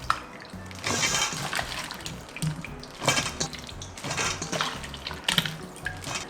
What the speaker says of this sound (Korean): 물을 부어서 한번 건질게요.